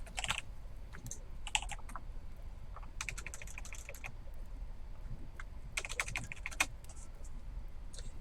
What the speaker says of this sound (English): I am going to regret typing this.